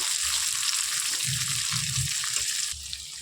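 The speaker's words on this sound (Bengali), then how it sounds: "বেগুন তো দিয়ে হালকা ভাবে একটু ভেজে নিতে হবে" Brinjal pieces fry lightly in oil with cinnamon and garam masala, giving a steady hiss with a few soft scrapes of stirring, close and even, then dropping a little at the end.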